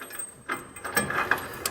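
Bolts being driven through a gooseneck hitch side plate into weld nuts in the frame rail of a 2017 Chevrolet Silverado, giving a short run of close mechanical ratcheting clicks and tool whirs with brief gaps.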